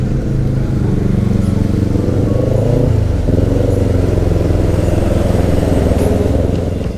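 A motorcycle rides onto a toll road during a solo tour through Indonesia toward Bali, its engine droning loud and steady up close with wind rush, then dropping into a brief gear change partway through before settling again.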